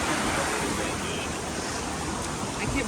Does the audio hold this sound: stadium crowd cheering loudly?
no